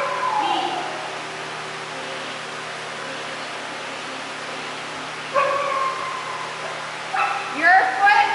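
Dog barking and yipping in short bursts amid a steady hum, the sharper yelps clustering near the end, while people talk nearby.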